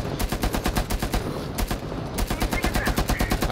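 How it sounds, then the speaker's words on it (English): Mounted turret fire in Rainbow Six Siege Outbreak, pounding out rapid evenly spaced shots through almost the whole stretch with one brief break, loud and close, with no talking over it. "I just lit her up with the turret"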